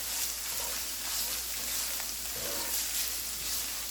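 Red chile beef cooks in a pan for enchiladas, giving a steady, soft sizzle and crackle that runs evenly throughout with no voices.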